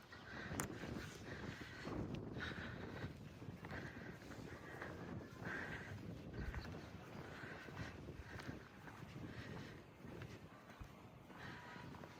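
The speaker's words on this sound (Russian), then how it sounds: "Первый раз я застала в эту поездку такой сильный ветер." Strong wind in Bahrain buffets the microphone in a rough, continuous rumble with occasional gusty thumps and no clear voices.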